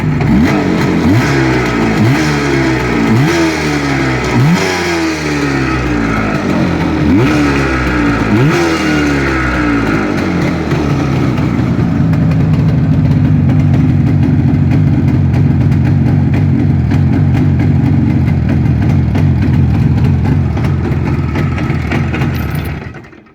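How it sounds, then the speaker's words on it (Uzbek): A Jupiter Yava motorcycle engine revs repeatedly in rhythmic bursts, rising and falling several times close by, then settles into a loud sustained roar before cutting off. "Mana hozir gaz berib ko'raman, quloq soling motorini aka."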